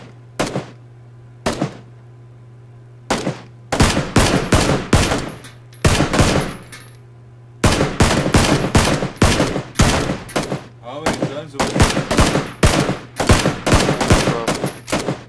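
PlayerUnknown's Battlegrounds gunfire: loud, close single shots at first, then sustained rapid automatic bursts firing in long strings with brief pauses between them.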